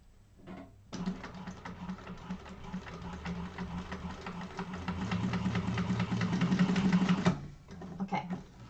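A sewing machine stitching a bag, a fast continuous motor hum and needle rattle that starts after a brief pause, grows slightly louder, then stops near the end, with quiet handling sounds around it.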